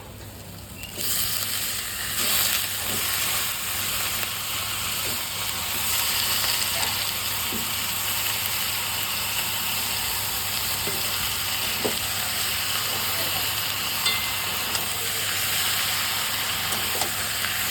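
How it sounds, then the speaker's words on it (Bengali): Steady sizzling of chicken frying in oil with spice paste, with occasional stirring scrapes and pops, continuous and close throughout. "আমার তো মশলা ভাজা হয়ে গেছে এবারে আমি মাংসগুলো দিয়ে দেবো"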